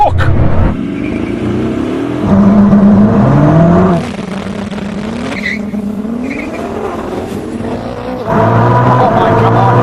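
Koenigsegg Jesko in a drag race: loud engine revving that rises in pitch through successive gears, cut by shifts and tire squeal, close and intense, with an excited voice talking over it.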